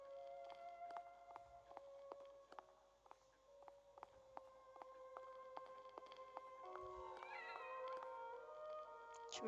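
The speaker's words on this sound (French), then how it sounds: "Il y avait le chat!" Cat in The Evil Within meowing repeatedly in clear drawn-out cries, with soft rhythmic ticks and faint ambience underneath and a higher, wavering call near the end.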